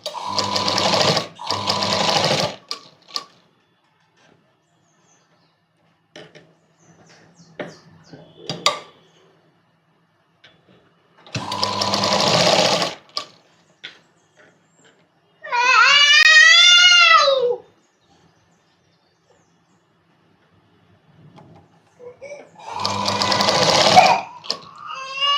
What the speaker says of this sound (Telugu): ఈ విధంగా స్టిచ్ చేసుకోవాలి.